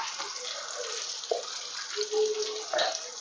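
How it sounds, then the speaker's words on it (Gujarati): Water pours from a tap or vessel onto flattened rice (poha) in a home kitchen, a continuous splashing stream with brief gurgles and shifts in flow, close and fairly loud. "એમાં પાણી નાખશું।"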